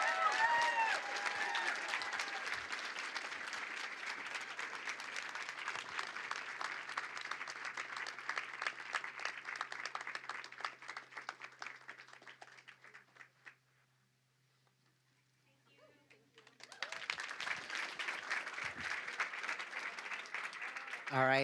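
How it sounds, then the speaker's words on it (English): An audience claps for a team of city employees at an employee recognition awards and pin ceremony; dense, steady applause fills the room, briefly drops almost to silence, then resumes just as strongly. "let's give them a big round of applause"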